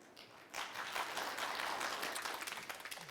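An audience applauding in a hall at a commemoration of Crimean resistance to Russian occupation: dense clapping that swells in after a brief pause and holds steady, fairly faint and distant, with no talk.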